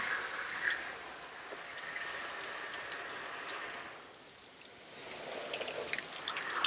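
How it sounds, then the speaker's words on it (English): Water rinsing down an Airstream trailer window and rock guard, a steady broad splashing spray that eases off briefly midway, then resumes with scattered drips and spatters. "Rinse down the window real well."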